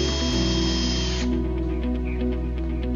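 A power drill whines steadily at high speed, loud and close, boring a pilot hole for a screw eye, its pitch shifting slightly as the bit bites into material, with no voices.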